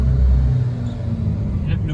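A modified car's engine rumbles in a low, steady idle from inside the vehicle, with a deeper surge at the start easing into a constant drone, as people talk over it.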